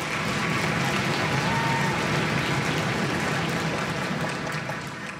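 A school auditorium audience at a sixth-grade county choral festival gives a dense, continuous wash of applause with a low thumping undertone of stomping feet, fading slightly at the end.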